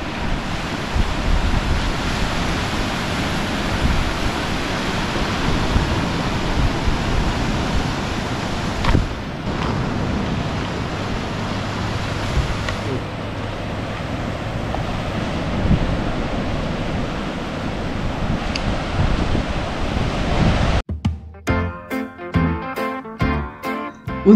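Sea waves wash onto the shore of Île d'Oléron's wild western coast, a continuous loud roar of surf mixed with wind buffeting, ending in a few sharp gusty bursts.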